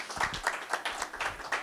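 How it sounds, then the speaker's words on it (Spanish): An audience at a book presentation gives brief, faint applause of scattered clapping, with no voices over it. "Un aplauso, por favor, para darle la bienvenida."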